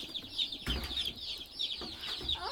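Chickens cluck and chatter on a pasture poultry farm, several birds making overlapping soft clucks and higher calls at moderate distance, with a few quiet thumps mixed in.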